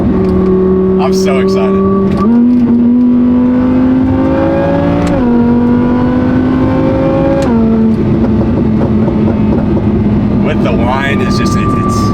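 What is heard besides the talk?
Audi R8 exhaust crackling and revving, Valvetronic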